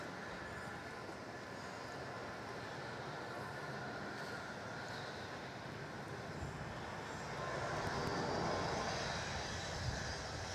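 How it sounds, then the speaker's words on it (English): A Jetstar jet airliner takes off on runway 34 at Melbourne Airport, heard as a distant, broad engine roar that holds steady and then swells a little toward the end, with no talk. "Jetstar ripping up runway 34 there"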